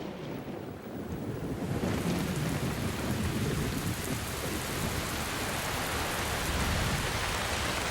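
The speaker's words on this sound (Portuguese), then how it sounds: "No final de dezembro, as chuvas chegam com toda a força." Heavy rain sweeps into the Amazon rainforest, a dense, steady roar of downpour building within the first second and holding loud throughout, with rumbling low thunder and gusts of wind mixed into the wash.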